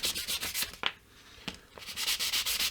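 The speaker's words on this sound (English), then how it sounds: "I'm using right now 360 wet and dry, sand away what I've got" Wet-and-dry sandpaper of 360 grit rubbing along a guitar neck being relic-modded, a steady run of close, scratchy back-and-forth strokes with a brief pause in the middle, no voices.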